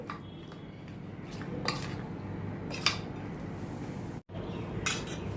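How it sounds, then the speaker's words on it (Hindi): Green chili pickle is spooned into a jar, giving a few faint metallic clinks and scrapes of utensil against container over a steady background hiss, with no one speaking. "इसको अभी मैं जार में डालती हूँ।"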